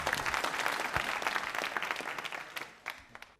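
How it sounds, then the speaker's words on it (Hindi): A crowd claps steadily, a dense burst of applause that thins out toward the end into a few scattered last claps. "तालियां बजाइए तीनों के लिए।"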